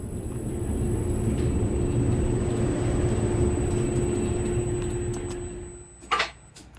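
Steady rumbling hum of a Roblox Cortex Electrodrive elevator climbing to floor 3, a constant drone with a faint high whine that fades near the end, followed by a brief clunk as it stops.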